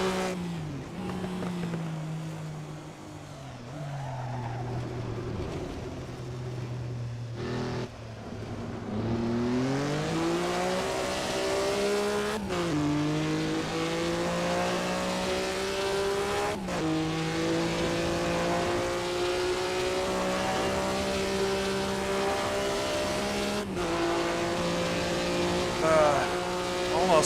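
Engine of a 1950s Grand Prix race car in a racing video game at Bremgarten, a steady loud drone whose pitch rises and falls with each gear change and surge of throttle, continuous for nearly half a minute.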